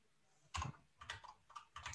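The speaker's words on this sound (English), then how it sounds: "typing's not so good to do" Fingers tapping on a computer keyboard in short, quiet bursts of a few keystrokes each, with brief pauses between them and no speech.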